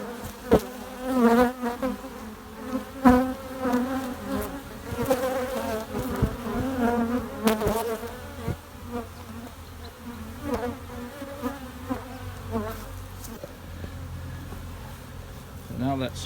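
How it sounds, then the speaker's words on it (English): A dense swarm of honey bees hums steadily close by at an open hive during a honey harvest, with occasional louder buzzes and knocks from handling the hive. "Pretty full of honey, very full of bees."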